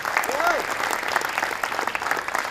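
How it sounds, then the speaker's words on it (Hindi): Steady applause from a theatre audience at a drama academy performance, dense clapping filling the space, with a brief whistle-like tone early on. "तालियां बजाइए प्लीज"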